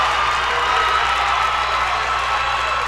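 The crowd at a high school varsity boys basketball district final roars after a dunk, a loud and steady wall of cheering that holds for the whole stretch.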